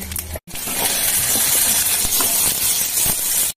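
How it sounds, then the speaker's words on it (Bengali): Dried red chillies and cumin seeds hit hot oil in a pan, a loud dense sizzling hiss that starts abruptly after a brief gap and continues steadily to the end. "তেল দিলাম, শুকনো লঙ্কা, জিরে দিয়ে দিলাম"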